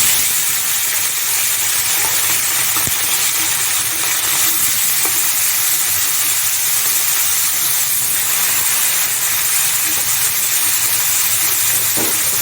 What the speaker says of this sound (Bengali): তেল গরম হয়ে গেছে, আমি এখন মাছ ভেজে নিচ্ছি।